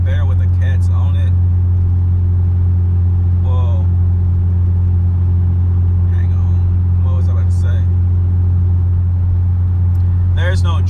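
A car with its catalytic converters removed drones loudly inside the cabin, a deep steady low-pitched rumble that never lets up while someone talks over it at intervals.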